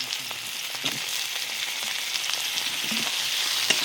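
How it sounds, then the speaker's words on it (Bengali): Tomatoes frying with ginger-garlic paste and bay leaves for a spicy winter fish curry, a continuous close sizzle with scattered spatula scrapes and taps, no talking. "টমেটো দিয়ে একটু নেড়ে চেড়ে নিয়েছি"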